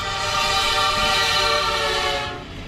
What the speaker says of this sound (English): The viewer of the video doesn't realize just how close behind them the train was until the blaring sound of the horn could be heard